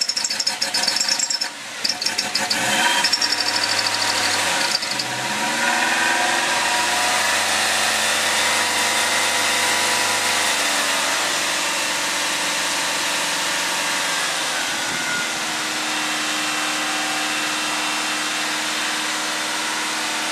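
Toyota Tarago (Previa/Estima) engine idling while the idle screw is adjusted, a loud continuous drone that shifts in pitch partway through after some brief clatter at the start.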